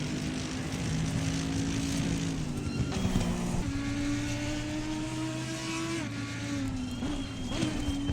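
Mercedes GT3 race car engine in Assetto Corsa Competizione, steady high-revving drone with gear shifts and pitch changes, loud and continuous, a rival car audible nearby.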